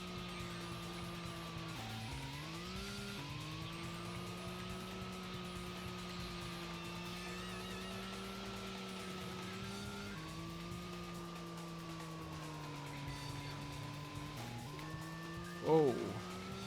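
A racing car engine drones steadily in a snow racing video game, holding a near-constant pitch with a few brief dips as gears shift or the car slides, with a short squeal near the end.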